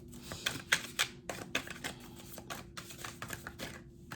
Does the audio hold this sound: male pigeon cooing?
no